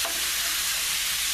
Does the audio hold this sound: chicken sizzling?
yes